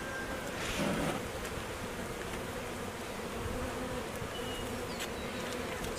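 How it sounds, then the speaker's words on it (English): Many honey bees hum together at a hive in a dense, continuous drone, close by and fairly quiet, with a few louder passes as individual insects fly near. "A lot of bees with a lot of pollen."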